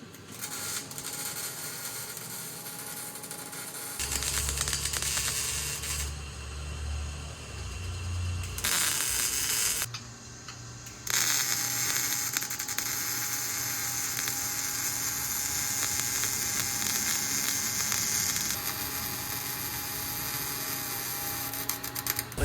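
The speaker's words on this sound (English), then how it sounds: "I'm welding, bro. I'm welding. I gotta keep it going." Welding on an exhaust muffler pipe for a GMC Sierra truck with a 5.3L engine, a steady buzzing sizzle that starts, stops and restarts in stretches, close and fairly quiet, with hums from shop equipment in between.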